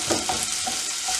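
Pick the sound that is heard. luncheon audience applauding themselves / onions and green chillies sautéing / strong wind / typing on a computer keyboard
onions and green chillies sautéing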